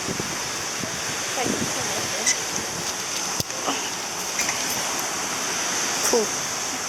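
Wind and ocean waves on a windy beach make a steady, loud roar of surf, with gusts buffeting the microphone and brief bumps through the wash.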